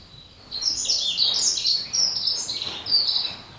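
A small farmland bird sings a thin, high twittering song in several bursts, fairly close and clear, with no voices.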